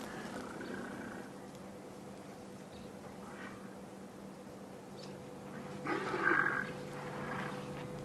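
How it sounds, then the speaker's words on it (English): An elephant breaks wind at night in the African bush, a brief low, rough burst rising out of a quiet, faintly humming nighttime background before fading away. "Now that was an elephant fart. We just heard that."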